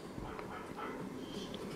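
Dogs on a television programme, heard through a home room as faint, muffled barks and whimpers at a steady low level, with no talk over them.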